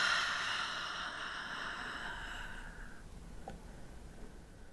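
A single long, deep exhale during a guided breathing exercise, soft and close, fading out over a few seconds and then giving way to quiet room tone.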